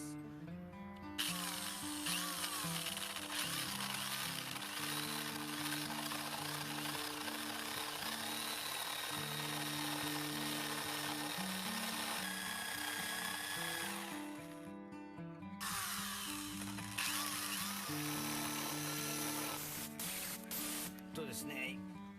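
A power tool grinds out a hole in wood so a nut can sit flush, for a handmade console box for a Toyota HiAce van. The loud, continuous whine breaks off once midway, and speech is heard alongside it.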